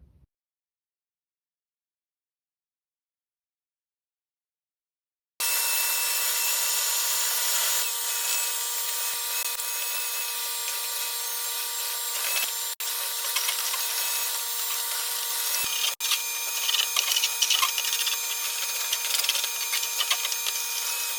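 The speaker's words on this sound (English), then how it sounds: "Now this is the final time I'm sweeping the floor today" A barn floor is swept in a workshop where a vintage Aston Martin is being stripped. After about five seconds of silence comes a steady, dense, close bristle scraping that continues unbroken to the end, with a few brief knocks.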